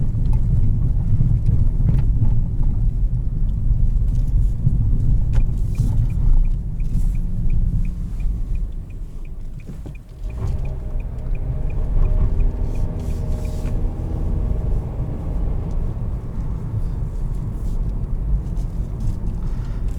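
Inside a 2021 Nissan Kicks SV on a bumpy road, a steady low rumble of road and engine noise runs throughout, with faint thumps and rattles from the uneven surface and no talking.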